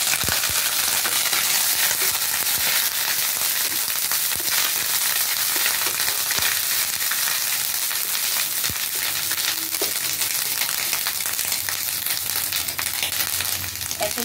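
Grated coconut sizzles and crackles steadily in hot oil that already holds a dried red chilli. The frying is loud and dense, with occasional stirring scrapes and pops, and nobody speaks.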